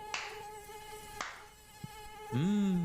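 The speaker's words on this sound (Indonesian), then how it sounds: "banyak banget ya nyamuknya di sini." Mosquitoes hum in a steady, high-pitched drone, with a few faint clicks, then a louder, bending buzz as one swoops close near the end.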